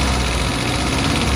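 The 1.0-litre four-cylinder engine of a 2008 Kia Morning automatic idles with a steady, even drone, heard close up and continuous without any talk.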